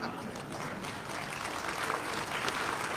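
Audience at a medical college concert claps along with folk singing, a quiet, continuous patter of hands from a crowd, fairly distant and steady throughout.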